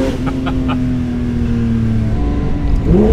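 A loud 2022 Porsche 992 GT3 Touring engine with a manual gearbox hums at a steady pitch, then climbs sharply as it revs near the end, with a few brief mechanical blips early on.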